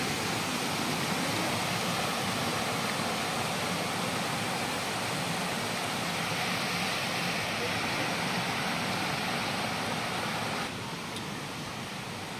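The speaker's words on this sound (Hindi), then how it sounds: "वाओ कि सुंदर झरना है" A waterfall near a hilltop temple at Chakratirth in Keonjhar roars as a loud, steady broadband rush, continuous and close, easing slightly near the end.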